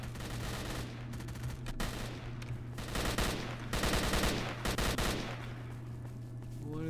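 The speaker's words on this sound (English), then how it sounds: "What are they shooting at?" Sustained gunfire rattles through a firefight in S.T.A.L.K.E.R.: Shadow of Chernobyl, with dense machine-gun bursts and scattered single shots over a steady low hum, continuous and fairly loud with no talk.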